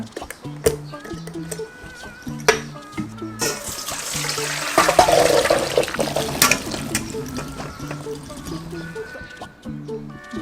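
Water-and-vinegar pickling liquid pours from a jar of peeled garlic pickles, a splashing trickle for several seconds amid clinks and faint background voices.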